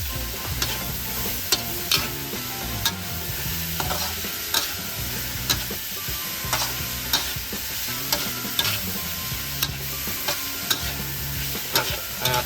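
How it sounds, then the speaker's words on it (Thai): Minced pork and chili being stir-fried in a pan, a steady loud sizzle broken by regular scraping and clacking of the spatula against the metal, with no talking. "ผัดไปจนพริกสุกนะครับ"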